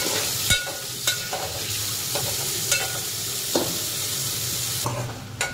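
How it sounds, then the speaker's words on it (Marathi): Red pumpkin vegetable sautéed in a pan with sugar and salt, a continuous near sizzle broken by repeated spatula scrapes and clinks at an uneven rhythm, no speech. "थोडीशी साखर, परत थोडंसं परतून घेऊ"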